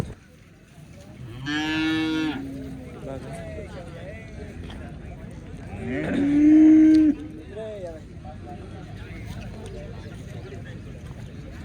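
Cows lowing at a newly opened cattle market, two long loud moos close by, set against a busy outdoor crowd with people talking.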